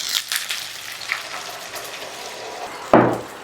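White wine poured into a hot pan of chicken for an Italian-style lemon chicken. Steady, quiet frying hiss at first, then a sudden loud, bursting sizzle near the end as the liquid hits the pan, with no talking.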